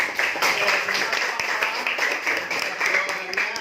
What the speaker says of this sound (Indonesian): Tepuk tangan untuk Mama.